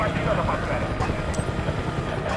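A helicopter in a Battlefield-style shooter whirs as a steady, close rotor and engine drone, with faint clicks and knocks scattered through it.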